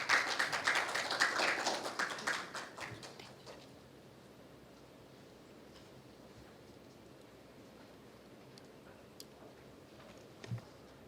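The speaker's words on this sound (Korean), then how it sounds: "큰 박수로 환영해 주시기 바랍니다." A forum audience applauds to welcome a university professor, a few seconds of faint, scattered clapping that quickly dies away into quiet room tone with only an isolated tap later.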